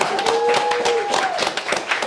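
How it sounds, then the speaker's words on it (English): Small crowd clapping to welcome a guest named Colin into the room, a steady patter of hands with a sustained tone running underneath. "Colin in the building, clap it up for Colin"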